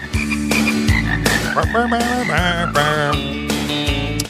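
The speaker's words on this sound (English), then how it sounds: "we're talking about the Lake Titicaca scrotum frog" Lake Titicaca scrotum frog croaking loudly and continuously, a dense chorus of rapid pulsed croaks and trilling calls with no voices.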